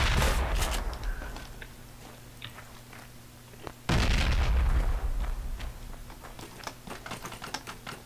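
Gunfire and a grenade blast ring out in Project Reality BF2, a military shooter, with sharp shots crackling throughout and a heavy explosion thudding in midway, moderately loud in the game mix.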